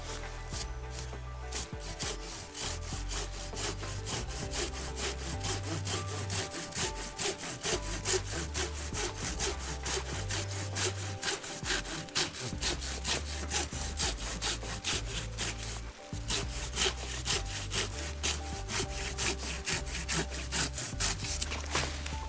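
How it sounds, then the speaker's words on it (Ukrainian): A Silky Tsurugi 300-8 Japanese hand saw cuts through wood in quick, steady back-and-forth strokes, close and continuous, with music playing underneath. "А зараз подивимося, як ця пилка ріже дерево."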